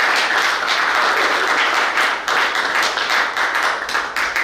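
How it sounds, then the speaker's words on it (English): An audience at an evening business event hosted by a chamber of commerce claps in sustained, dense applause that stays loud throughout, with a faint voice buried underneath. "So please give them a special round of applause."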